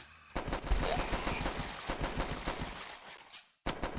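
Rapid bursts of automatic gunfire in the video game The Last Stand, loud and close, with dense rattling volleys over about four seconds and a brief pause near the end.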